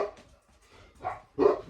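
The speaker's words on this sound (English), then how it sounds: "So we'll listen to him bark at the deers." A dog barks at deer outdoors, a few soft yips then two louder barks toward the end, moderately distant and fairly quiet.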